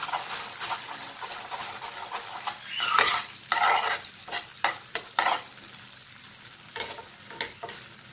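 Food frying in a pan is stirred and mixed, and a soft sizzle sits under a run of close scrapes and clatters that come in uneven bursts, loudest near the middle.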